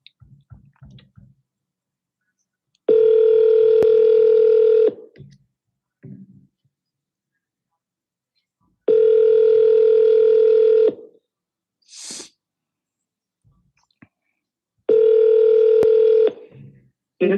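Three long, steady telephone tones of about two seconds each sound clearly, separated by silence, with a few faint clicks and short bursts between them, while calling for-sale-by-owner listings.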